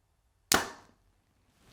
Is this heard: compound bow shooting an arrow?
yes